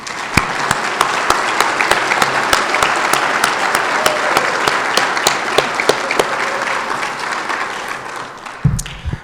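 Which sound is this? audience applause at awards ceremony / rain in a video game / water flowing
audience applause at awards ceremony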